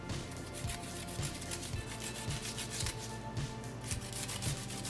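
Cucumber being coarsely grated by hand over a bowl, a steady series of rasping strokes repeating roughly every half second, close and fairly loud with no talking.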